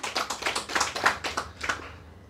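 An audience gives a quick burst of clapping, about eight sharp claps in an even rhythm that fade out after two seconds, close and distinct with no talk over them.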